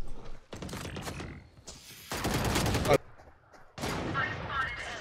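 Rapid bursts of gunfire in a Valorant match, firing in clustered volleys with short gaps between them, mixed with game noise and mechanical clicks.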